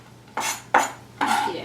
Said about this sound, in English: Chop up the rest of this. Just a real quick little extra chop.